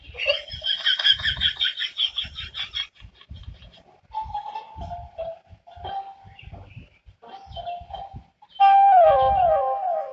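A chicken squawks and clucks loudly in harsh bursts at the start, goes quieter with softer calls in the middle, then lets out a loud, shrill flurry of cries at the end.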